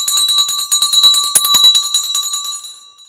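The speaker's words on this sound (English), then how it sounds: "Bell time, guys." A stock market closing bell rings in a rapid, loud metallic clatter of repeated strikes, bright and sustained before fading out at the end.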